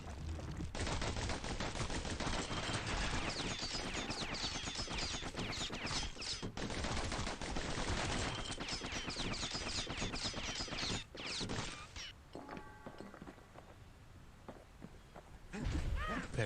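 Dual slinger pistols fire in the video game Bastion, loud rapid volleys of sharp shots running almost continuously, briefly thinning out before resuming near the end.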